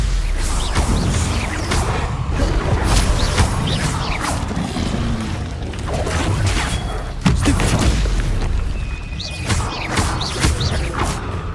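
Magical spell blasts and combat in the Hogwarts Legacy video game: dense, continuous layered booms, crashes, whooshes and impacts, loud and busy throughout with no clear pauses.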